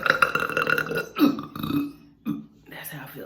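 A loud, drawn-out burp from a person, several croaking belching bursts in a row, close to the mic, with voices mixed in around it.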